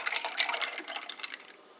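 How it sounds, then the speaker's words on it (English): Pomegranate juice poured from a container into a mug of pineapple carbonated water, a short, soft, bright trickle and splash that tapers off, close and quiet. "you add in the Pom juice from this"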